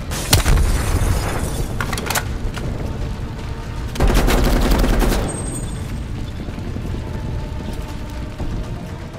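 An enemy gun turret fires in Call of Duty: Black Ops Cold War, with loud close bursts of automatic shots, heavy booms and mechanical rattling, strongest at the start and around the middle, then a steadier rumble.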